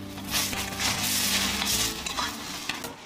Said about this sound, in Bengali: হলুদ, জিরের গুঁড়ো, এবারে ভালো করে কষাবো